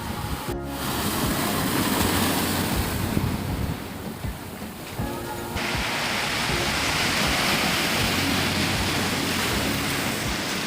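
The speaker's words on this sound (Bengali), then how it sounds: "কি বড় বড় ঢেউ আসছে" Big sea waves crash and roar continuously onto the beach at Shankarpur, a dense loud wash of surf with wind buffeting the microphone.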